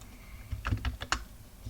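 Keys clatter on a computer keyboard in a quick burst of several close, crisp taps, with quiet gaps on either side.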